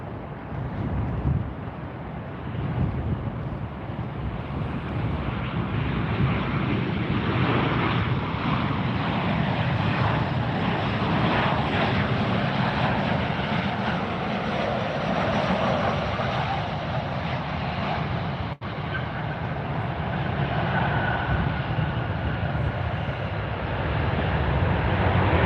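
A Southwest airliner coming in to land at Fort Lauderdale, a steady loud jet engine roar and rushing wind that holds throughout with no talking.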